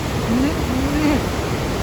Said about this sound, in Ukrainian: дуже мощний водоспад